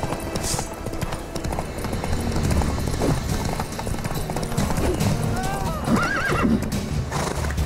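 Horse hooves clip-clopping at a gallop in The Witcher 3 game, steady and close, with a whinny partway through and talk over the top.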